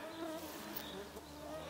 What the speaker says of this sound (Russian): У нас комары с тобой тут сидят.